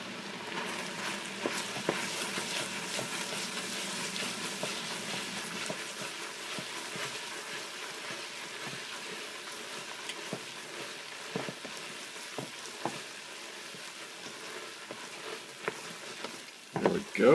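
Tofu chili sizzles in a frying pan while being stirred, a steady crackling fry with occasional scrapes and clicks of a utensil against the pan, ending in a louder clatter.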